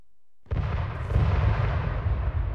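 A sudden heavy blast after brief silence, then a sustained rumbling roar that carries on without fading, from grenade explosions in the video game Arma 3.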